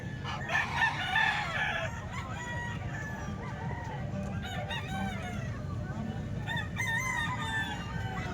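A golden gray stag rooster crows near the microphone in a couple of drawn-out calls over a busy background of other fowl clucking and faint human voices.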